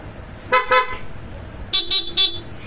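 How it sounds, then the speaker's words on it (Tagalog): Two pairs of short, bright PIAA motorcycle horn toots on a scooter, a quick double beep followed after a pause by three rapid honks, fairly close with light background noise. "Ang busina nito, PIAA with selector"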